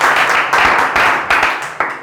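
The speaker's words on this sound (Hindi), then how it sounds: "तालियां बजाओ रोहन के लिए" Students in a Class 10 maths classroom clap for a classmate in a short, dense burst of handclaps lasting about two seconds, with claps tapering off near the end.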